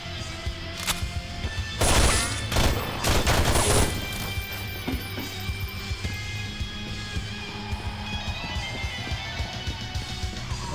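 Rapid bursts of gunfire in the horror video game Underhell, a loud cluster of shots in the first few seconds followed by scattered fainter impacts and background game ambience.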